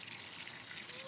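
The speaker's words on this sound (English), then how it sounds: "Look, Wyatt, you can even play with the water coming" Water gushes steadily from a hose or spout into a kiddie pool, a continuous trickling flow at close range with no pauses.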